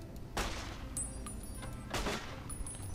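Two sharp gunshots from a scoped weapon ring out in the game Fallout New Vegas, spaced about a second and a half apart, each a broad crack over a low murmuring background.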